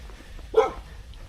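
A single short dog bark at a mountain campsite, sharp and fairly close, set against a quiet background.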